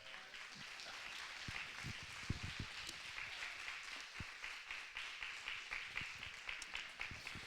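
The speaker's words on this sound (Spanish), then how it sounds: "dele un aplauso al Señor" Church congregation applauding steadily throughout, a dense wash of many hands clapping at moderate distance with faint scattered voices underneath.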